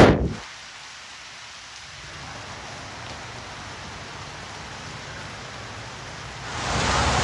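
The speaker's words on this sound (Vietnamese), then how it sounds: "mưa thì cũng không có dấu hiệu ngớt" Steady evening rain pours onto a street in Nha Trang as a dense, even hiss that grows louder toward the end, with no voices heard.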